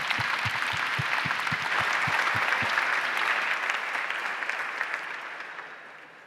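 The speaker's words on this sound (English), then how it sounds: "a round of applause for our panel" Audience applause in a conference great hall for a panel at a blockchain social impact event: a large crowd claps steadily for about six seconds, full and close, then gradually thins and fades toward the end.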